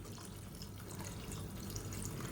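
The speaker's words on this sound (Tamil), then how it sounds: "நல்லா சூடு பண்ணிவிட்டு இந்த தண்ணியை சேர்த்துக்கோங்க" Hot water poured into a simmering Tamil curry (kuzhambu) in a kitchen pot, a steady continuous liquid pouring and splashing that stays fairly even and close throughout, with no talking.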